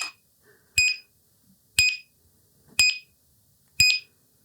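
A Begode RS HT electric unicycle, motor disengaged, gives a series of four evenly spaced, sharp electronic beeps about a second apart, each one clear and close.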